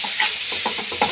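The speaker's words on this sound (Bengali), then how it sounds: "এটা এখন পেঁয়াজ দিয়ে বাগার দিতেছি" Mashed boiled red chikla bhorta frying with an onion tempering, a steady close sizzle broken by a few quick stirring scrapes in the pan, brief and without any voices.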